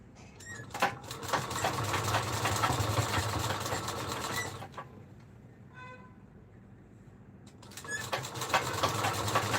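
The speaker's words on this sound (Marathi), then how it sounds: "अशा पद्धतीने सेट करत आपल्याला या पट्टीला शिलाई मारून घ्यायची आहे" A sewing machine stitches a fabric strip for a kalash saree, running in a steady close-up mechanical whir, stopping briefly near the middle, then starting up again.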